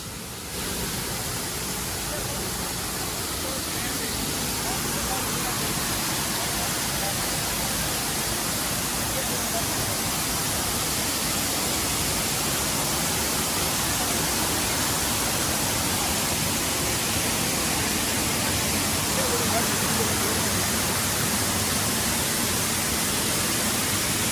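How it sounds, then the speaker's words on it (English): A loud, close waterfall roaring as a dense, constant broadband rush that masks everything; a voice shouts faintly underneath it. "I'm shouting over the sound of this waterfall."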